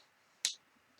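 A single sharp computer mouse click sounds once, brief and crisp against a quiet background.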